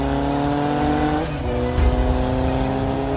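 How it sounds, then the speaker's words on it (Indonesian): A motorbike ridden fairly fast as a sound effect, its engine a loud, steady drone that shifts pitch and swells briefly as it pulls away, with no voices. "Ia melajukan motornya agak kencang menuju rumah Dito."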